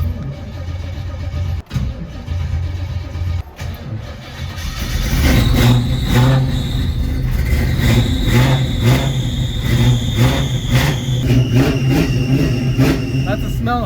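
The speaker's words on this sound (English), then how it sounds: "Sounds like this thing got an exhaust leak from up here too." A 1968 Camaro engine fires and revs hard, its loud, rough exhaust note carrying the ragged puff of an exhaust leak; people talk faintly over the engine noise.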